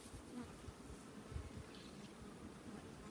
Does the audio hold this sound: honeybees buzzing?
yes